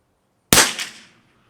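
A single rifle shot fired with Eley Tenex ammunition cracks sharply out of silence, loud and abrupt, with a brief decaying echo trailing off in under a second.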